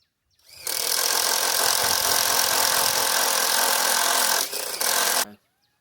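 An old, weak 12-volt cordless drill bores a hole into a wooden block, a loud continuous whirring grind for about four seconds with a brief dip before stopping, heard up close with no talk.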